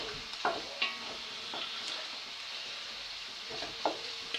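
Onions sizzle in a pan with a soft continuous hiss, broken by a few light clicks and stirring scrapes close by.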